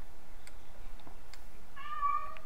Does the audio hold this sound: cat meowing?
yes